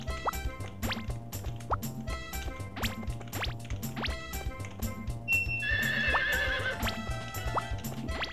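A horse in Harvest Moon 64 gives a bright synthetic neigh over a steady clip-clop of hooves and chiming game music, loud and continuous.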